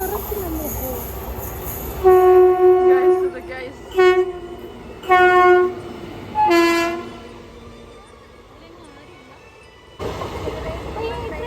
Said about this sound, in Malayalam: ചെറിയ ട്രെയിനാ ഗൈസ്